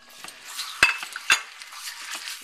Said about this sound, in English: I'm going to start making the chili by browning my ground beef in this pan that I've put a little olive oil in